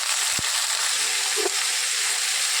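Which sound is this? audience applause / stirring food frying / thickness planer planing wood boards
stirring food frying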